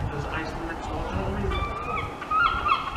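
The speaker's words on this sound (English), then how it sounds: "All you can really hear is seagulls and the very odd voice of a person." Gulls call several times on a quiet morning in a city square, mostly toward the end, over a low hum of street ambience.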